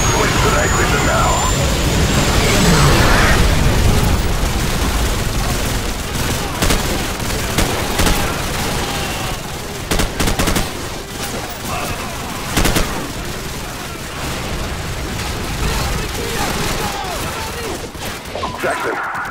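Call of Duty 4: Modern Warfare gunfire and explosions from a night battle in a bog, with dense rapid automatic fire and repeated booms under shouted voices throughout.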